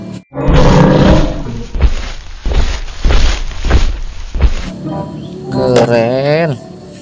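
A loud, rumbling triceratops dinosaur roar sounds in several pulsing bursts, followed by a higher warbling cry near the end.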